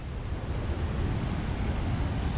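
Strong roaring flow of Athirappilly waterfall, a dense continuous broadband rush heard steadily at moderate distance with no voices.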